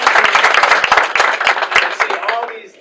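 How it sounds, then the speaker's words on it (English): Guests at a celebration of Ibraheem Khan's Yale admission clap for the Consul General of Pakistan, sharp distinct claps close by that thin out and fade near the end. "Can you give him a round of applause?"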